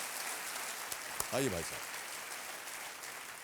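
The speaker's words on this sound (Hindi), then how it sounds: "तालियों के साथ हम आपका अभिनंदन करते हैं." Studio audience applause on the KBC Season 7 quiz show, a steady wash of clapping sustained throughout, with a brief spoken greeting cutting through midway.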